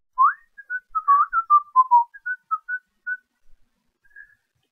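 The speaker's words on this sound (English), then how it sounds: "To show you what it means to whistle, I'm going to whistle right" A person whistles a short, wandering melody of quick notes, clear and close, with no other sound around it.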